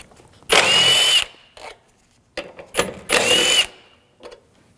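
A power tool spins bolts out with a 10mm socket on a 2007-2013 BMW 328i 3.0L, in two loud close bursts of whirring, separated by quieter clicks and handling noises.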